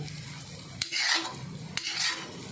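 A spoon stirring ground peanut powder into a potato chutney, two scraping, swishing strokes against the bowl with a light click at the start of each, close and fairly quiet with no talking.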